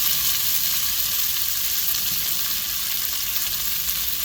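A frying pan of hot oil hisses and crackles without pause, a close, even sizzle with tiny pops throughout and no talking, ready for hash browns in a steak, egg and cheese quesadilla.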